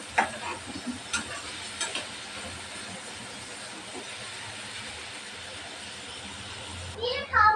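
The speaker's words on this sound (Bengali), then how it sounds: "এই তেলের ভিতরে দিয়ে দেবো পেঁয়াজ কুচি। পেঁয়াজটা ভালোভাবে ভেজে নেব।" Chopped onions frying in hot oil in a home kitchen, a low steady sizzle running throughout with a few sharp crackles and stirring knocks near the start and a clatter at the end.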